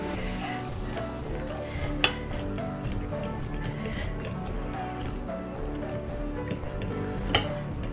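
Chicken nugget ingredients being stirred together in a bowl, soft squishing with occasional sharp clinks of a utensil against the bowl, steady and close under a low background.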